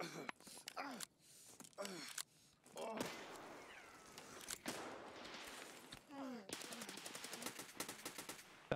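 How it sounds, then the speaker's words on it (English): Automatic gunfire in Escape from Tarkov, with rapid bursts and sharp single shots, close and loud, broken up by several players talking over it throughout. "that guy's ripping shots off"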